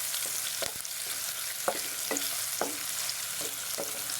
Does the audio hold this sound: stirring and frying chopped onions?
yes